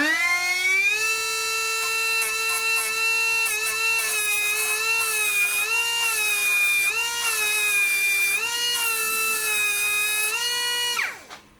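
A grinding wheel on a Schaublin 70 lathe is dressed with a Norbide stick, giving a loud, steady high-pitched whine that wavers slightly in pitch as the stick passes across the stone, then winds down at the end.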